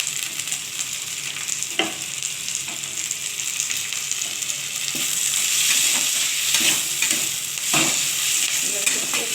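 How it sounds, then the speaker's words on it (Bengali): Curry leaves fry in a pan for a mixed vegetable dish with bottle gourd, giving a steady bright sizzle with occasional sharp crackles and spatula scrapes, close and alone with no talk. "খুব ভালো করে ভাজতে হবে, কারি পাতার একটা সুন্দর গন্ধ ওঠে"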